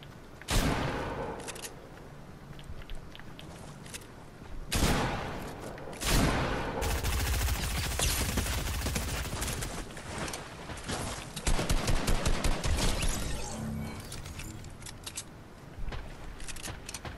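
Gunfire in the video game Fortnite: several bursts of rapid shots and fusillades, some loud and close, others sustained and rattling, with quieter gaps between the volleys.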